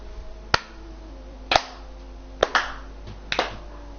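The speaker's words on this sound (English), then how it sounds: "That slow clap was just so emotional" Four single, sharp hand claps spaced about a second apart make a deliberate slow clap, crisp and fairly close over a low hum, in an F1 esports league broadcast.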